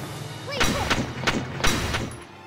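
Headshot gunfire in the Valkyria Chronicles Remastered video game, several dull booming shots spaced roughly every half second over a continuous in-game background hum, moderately loud, with no talk over them.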